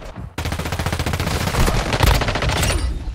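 Shotgun gunfire in the Warzone Mobile video game on a Rust map: a sudden onset of loud, rapid, continuous bursts of shots that keeps up without pause, with no talk over it.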